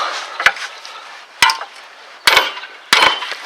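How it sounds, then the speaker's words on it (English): Four sharp metallic hammer strikes on a pickle fork wedged at a Ford Taurus lower ball joint, at uneven intervals, each a loud clank with a brief ring and a quieter tail. "if you hit around here with your hammer and put your pickle fork in there"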